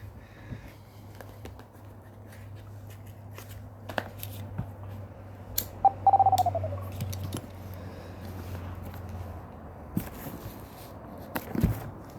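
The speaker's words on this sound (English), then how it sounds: "That was my phone going," A mobile phone goes off once with a brief, soft electronic chime over quiet room noise during a mobile golf game session.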